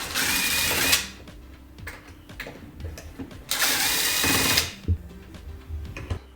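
A power tool whirs while backing out the bottom cover screws of a Xiaomi 60V dual-motor electric scooter, two loud bursts separated by quieter clicks and handling sounds.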